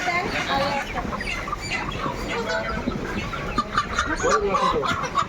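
Chickens clucking at a market, with fairly close, repeated clucks mixed into busy crowd chatter as people talk nearby.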